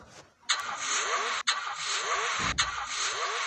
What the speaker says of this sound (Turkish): Araba.